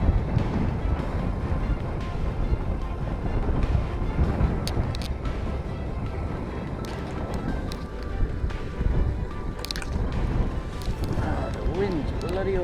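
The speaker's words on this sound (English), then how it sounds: "Oh, the wind's bloody awful here." Harsh wind buffets the microphone at a waterside fishing spot, a heavy, continuous low rumble of gusts that rises and falls, with people talking under it.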